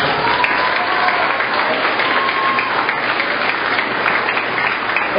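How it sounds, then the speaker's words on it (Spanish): A dense, continuous round of crowd applause at a public event goes on loud and steady for over five seconds, with no voice rising above it. "A Eugenio le daré un fuerte aplauso, por favor."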